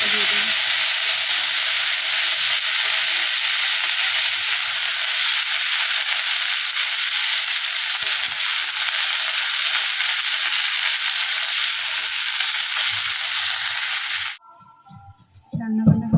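Leafy greens frying in a pan with garlic tempering, a loud, close, continuous hissing sizzle that cuts off abruptly near the end, followed by faint clatter.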